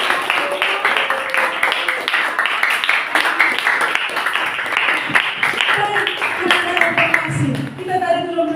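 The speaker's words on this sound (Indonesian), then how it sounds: "tepuk tangan" Classroom applause: a burst of scattered hand clapping from a group of students, fairly close and continuous, with voices chattering over it and a few louder claps near the end.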